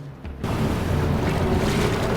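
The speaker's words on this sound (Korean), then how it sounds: "보트를 밀어 바다로 나가는 두 사람" A boat pushed out into the sea, with a sudden rush of waves and wind noise that swells in after a brief quieter moment and then holds steady and loud.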